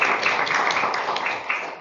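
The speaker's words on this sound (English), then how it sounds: "let's have a round of applause for our." An audience at a town hall talk about Boca Raton in the 1970s applauds, a dense, close wash of clapping that holds steady before thinning toward the end.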